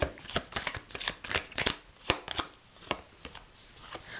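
Oracle cards are shuffled by hand in quick, irregular riffles and taps, close and fairly quiet, with a soft crisp clatter repeating throughout and no talking.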